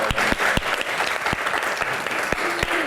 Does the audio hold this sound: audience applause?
yes